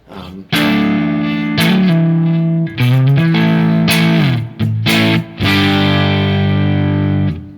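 A distorted electric guitar on the neck pickup plays chords and short riffs with a warm, rounded tone, notes ringing then cutting off between phrases.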